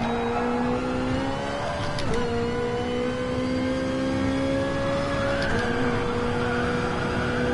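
Race car engine in the Gran Turismo Sport video game, a loud steady drone with harmonic whine, dipping briefly at gear shifts around two and five and a half seconds, close and continuous without talk.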